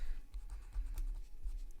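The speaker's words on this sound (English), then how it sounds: "The artist's best friend is this pencil eraser." Pencil eraser rubbing on paper during a watercolor sketch, a close, scratchy back-and-forth scrubbing in short irregular strokes.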